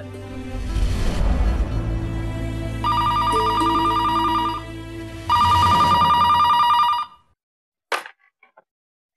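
A telephone rings in two long, loud electronic bursts separated by a pause, each bright and steady, followed by silence and a brief click as the call is picked up.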